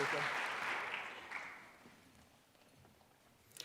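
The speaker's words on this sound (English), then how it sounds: "So let's give those two a big round of applause too" An audience at a youth awards ceremony applauds its guests. The clapping is fairly loud at first, then fades and thins out to a few scattered claps.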